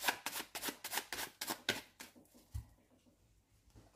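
A deck of Lenormand fortune-telling cards is riffled and cut, giving a quick run of rhythmic papery flicks that stops with one soft thud and a quiet pause, close up and with no voices.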